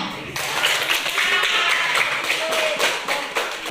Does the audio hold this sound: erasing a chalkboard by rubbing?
no